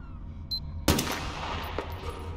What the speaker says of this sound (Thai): เสียงปืนมันดัง